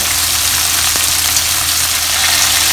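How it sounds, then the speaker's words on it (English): Pork pieces deep frying in hot oil, a loud, steady, dense sizzle and hiss with a low constant hum underneath, continuous throughout. "We'll fry this until it gets a uniform golden brown color"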